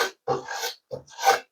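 A brush drawn along wood with the grain while making a DIY bird feeder: three short, close rasping strokes separated by brief pauses, with no other sound.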